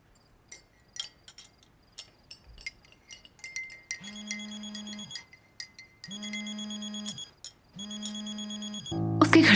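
A phone rings with an incoming call in a quiet home at night, three long evenly spaced electronic ring bursts following a few soft clinks, with a loud clatter at the very end.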